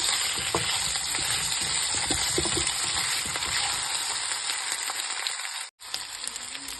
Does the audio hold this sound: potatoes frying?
yes